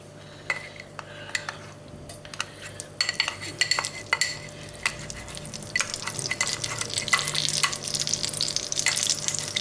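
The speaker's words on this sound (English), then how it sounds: "So into the brand new wok, I've got putting the oil and the butter." Oil and butter heating in a brand new wok, a soft sizzle building steadily while a utensil clinks and scrapes against the metal in scattered taps, close and without talk.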